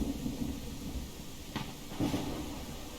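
A constant wash of rain with a deep thunder rumble and a couple of brief crackling bursts partway through, no talking; a rain and thunder weather effect in the video game Ranch Simulator.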